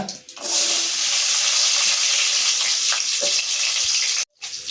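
Mustard seeds, fenugreek and small shallots frying in hot oil give a steady, loud sizzle that holds almost throughout, with faint stirring clicks and a brief drop to silence near the end.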